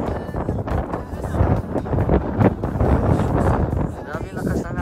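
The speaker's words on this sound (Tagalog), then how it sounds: "Grabe lakas ng hangin." Strong wind buffets the microphone in loud, continuous gusts, with voices talking underneath.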